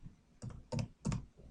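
Keystrokes on a computer keyboard as a description is typed, three distinct clusters of close, quick clicks with short pauses between them, no voices.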